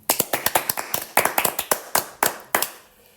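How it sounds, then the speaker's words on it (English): A small group claps for about three seconds, a quick and slightly uneven patter of individual claps heard close and fairly loud, with no one talking. "it is time to get a round of applause from the audience"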